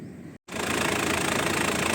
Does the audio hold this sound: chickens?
no